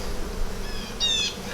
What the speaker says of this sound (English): So lots of bees on here.